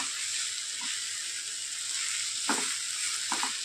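Kurdu greens with salt and grated fresh coconut cook in a pan under a constant close sizzle, with a few soft scrapes of a spoon stirring through them.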